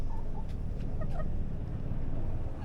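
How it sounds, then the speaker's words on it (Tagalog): A chicken clucks softly in short broken calls over a steady low rumble of background noise, faint and fairly close. "Tingnan natin ulit yung manok kasi nag-ingay na naman."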